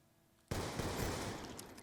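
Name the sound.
sniper rifle gunfire in video game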